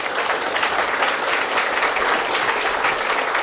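A crowd at an apartment groundbreaking ceremony applauds in a full, sustained burst of clapping that stays even and unbroken throughout.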